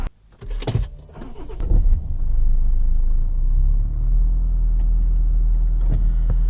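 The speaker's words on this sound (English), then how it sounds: "I'm ready to hit the motorway, which, as you can hear, isn't very far away at all" Motorway traffic rumbles steadily nearby at a fuel station, with a car whooshing past early on and a continuous low road drone filling the background.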